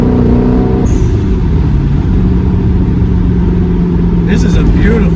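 A 1997 Lotus Esprit V8 Twin Turbo driving along a road, its engine giving a loud, steady low drone with a slight rise in revs, heard from inside the cabin.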